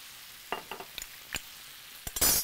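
Calamari and mussels sautéing in a seafood stew pan: sparse clattering scrapes and short sizzling bursts over a quiet background, ending in a louder, brighter hiss.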